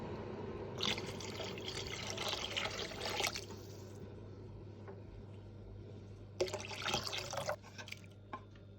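Water pours from a jug into a cooking pot of Iranian ash soup with carrots and fresh herbs, two separate splashing pours, each a few seconds long, over a quiet kitchen hum.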